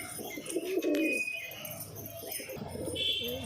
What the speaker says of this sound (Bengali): দেখো ডাক, দেখো পায়রা ডাক, দেখো ডাক দেখলে বোঝা যায় কিরকম পায়রা